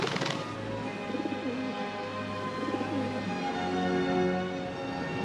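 A dove coos softly in a short series of low, hollow calls, faint and close, after a brief sharp sound at the start.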